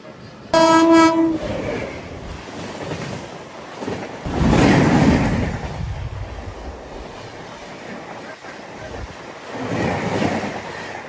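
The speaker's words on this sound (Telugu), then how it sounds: "ఆ టైపు నుంచి గూడ్స్ బండి వచ్చేస్తుంది" A train horn sounds once, then heavy rolling rail noise swells as a goods train passes close, fading into steady track rumble with another surge near the end.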